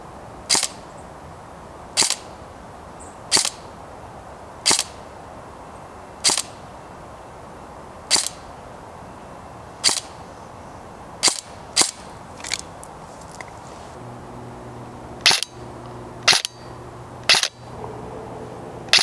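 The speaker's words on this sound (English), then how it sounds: "So we're going to take some shots out there and see what kind of range we're getting." Sharp single shots from a KWA M4 DMR airsoft rifle firing at about 490 FPS outdoors, a dozen or so crisp cracks spaced a second or two apart, some in quick pairs, with a faint steady hum in the background.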